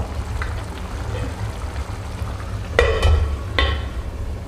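Onions cooking in a pan with rock salt for paneer masala give a steady low sizzle throughout, with a couple of sharper stirring scrapes near the end; no one talks.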